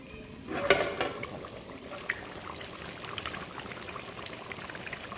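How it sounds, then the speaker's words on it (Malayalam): Water pours into a large pot sitting on a gas stove, a splashing gush at the start that settles into a steady liquid rush, heard close. "ഇതിലേക്ക് വെള്ളം ഒഴിക്കുകയാണ്."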